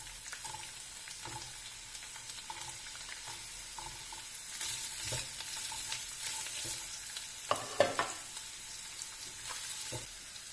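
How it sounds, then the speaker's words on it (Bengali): Chopped carrots and garlic fry in a pan, a soft, steady sizzle broken by occasional stirring scrapes and a couple of sharper clatters, fairly quiet and close, with no voices. "গাজর কুচিগুলো একটু ভেজে নিতে হবে।"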